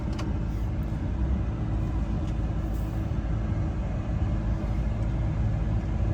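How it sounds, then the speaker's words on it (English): A Ford 6.7 pickup truck on a test drive gives a continuous low engine rumble mixed with road noise, steady and fairly loud from start to finish, with no talking. "let's go for a little test drive"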